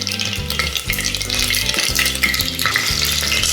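Mustard seeds and dried red chillies splutter in hot oil with dense, close crackling and popping that runs loud and steady throughout, with no talk.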